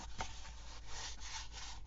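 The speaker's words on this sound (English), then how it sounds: "with that sanding on the fabric after the paint is dried, it really makes the fabric feel loved and worn" Sandpaper rubs over dried paint on fabric for a journal cover, close and quiet, with a few soft repeated scraping strokes.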